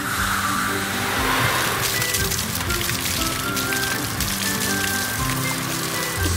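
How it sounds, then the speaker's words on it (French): Cartoon fire truck spraying water, a dense steady hiss like heavy rain or a gushing stream, continuous and fairly loud with faint music beneath. "Il allume l'eau."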